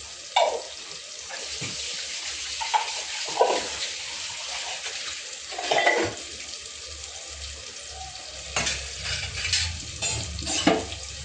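Ginger garlic paste sautéing for chickpea and potato kurma, with a soft steady frying hiss and occasional stirring scrapes of a spoon in the pan, close and fairly quiet.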